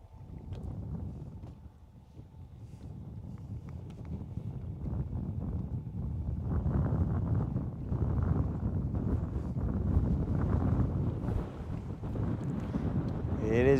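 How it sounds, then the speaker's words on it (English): Steady wind buffets the microphone aboard a fishing boat on Lake Guntersville, a continuous low rumble that gradually strengthens and never lets up. "It is getting breezy."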